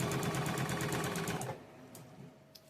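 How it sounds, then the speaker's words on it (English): A sewing machine runs in a fast, steady stitching rattle as it sews quilt fabric along a marked line, close and loud for about a second and a half before stopping, leaving quiet room tone with a couple of faint clicks. "sew straight through, making sure I keep that bottom corner on that red line"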